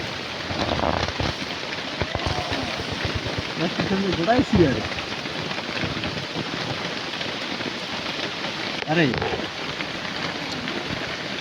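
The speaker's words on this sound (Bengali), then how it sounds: "আমাদের ছাতা আছে, তার উপরে প্লাস্টিক, কিন্তু তারপরেও আমরা যুদ্ধ করে পারতেছি না, কেননা শিলা বৃষ্টি হচ্ছে প্রচুর পরিমাণ" Heavy hail and rain pound an umbrella covered with plastic in a steady, dense patter close by, while voices talk now and then under the drumming.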